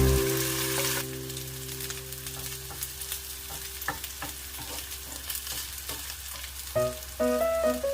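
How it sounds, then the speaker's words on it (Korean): Cabbage and egg batter frying gently over low heat in a thin oiled pan, with a steady close sizzle and scattered spatter pops, a brief tonal clatter near the end. "얇은 팬에 기름을 두르고 반죽을 올려 약불에서 노릇노릇 부쳐주세요"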